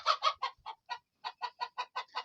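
A hen clucks close by in a quick run of about a dozen sharp, evenly spaced clucks with a brief pause midway.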